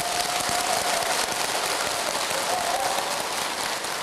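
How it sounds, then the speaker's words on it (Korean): Temple audience applauding at a Buddhist dharma talk at a Masan branch temple, a dense, steady wash of clapping that fills the whole stretch without pause. "어차피 박수 친 거 편집돼요, 여러분."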